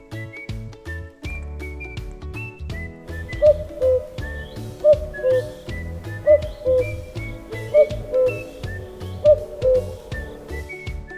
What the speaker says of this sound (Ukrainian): Це зозуля кує.